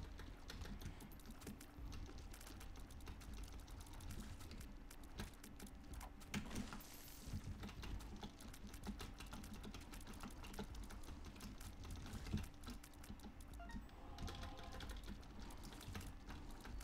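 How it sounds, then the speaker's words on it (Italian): Typing on a noisy non-mechanical computer keyboard during play of The Binding of Isaac: Afterbirth Plus, a steady faint stream of quick key clicks with occasional louder taps, no voices. "sentirete un sacco la tastiera in questa puntata"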